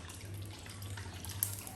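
Cold water from the fridge runs steadily into a bowl with ice, a soft splashing trickle over a low hum, fairly quiet and close.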